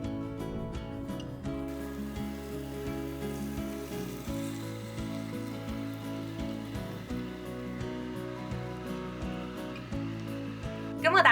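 An omelette fries in a pan with a steady, close sizzle that continues throughout, overlaid with background music and a final louder clatter at the end.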